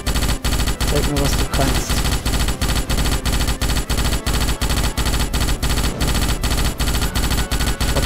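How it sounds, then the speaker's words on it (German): Rapid, relentless automatic gunfire from the Starship Troopers video game hammers away in evenly spaced bursts, loud and dense throughout, with a voice speaking briefly over it. "Baller meine ganze Munition, wenn es sein muss."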